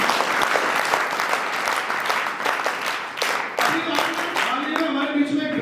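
An audience claps loudly and steadily at a scouts' felicitation ceremony in India, a dense sustained round of applause with a voice and some tonal sound rising under it toward the end.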